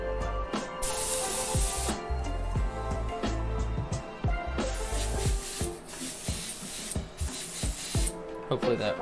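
An airbrush fed by a long hose of about ten feet sprays paint for graffiti art, its airy hiss rising in several bursts over loud, rhythmic background music.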